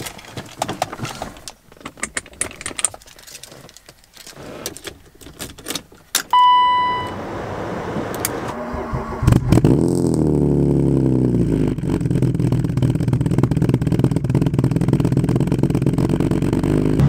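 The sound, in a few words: BMW E36 car starting and revving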